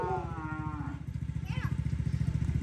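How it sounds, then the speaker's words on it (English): A bull named Waylon moos in a pasture, a long, loud, low bellow with strong harmonics over a steady engine-like rumble, while people talk briefly nearby. "Waylon's that bull right there who's come over here into Pawpaw's pastures"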